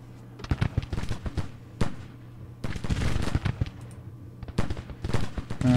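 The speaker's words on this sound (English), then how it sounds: "This whole clump of enemy troops is in range of our Royal Black Watch troops. They are firing at range" Rifle volleys from troops in the Civil War strategy game Grand Tactician, rapid crackling gunfire in dense clustered bursts with brief gaps between, loud and sharp over a low steady background hum.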